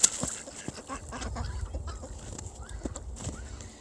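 Ducks quack and chatter irregularly in a small group near water, with scattered short calls over a rustling, splashy background.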